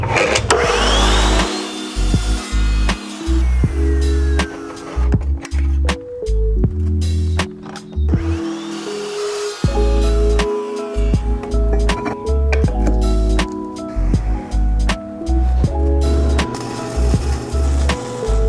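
A chop saw set to 22.5 degrees cuts through 3/8 inch steel pipe, a loud motor whine with strong tonal harmonics rising and falling over repeated bursts, punctuated by short pauses between passes.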